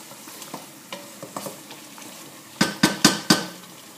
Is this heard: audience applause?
no